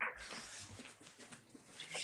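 A dog whimpers and yips close by in a brief, high, wavering whine lasting about two seconds, fairly loud and with no talk over it.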